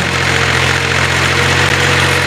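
A tractor engine working a millet field in hot sun runs loud and close with a steady, throbbing mid-low drone and constant vibration, without pause, and no voices.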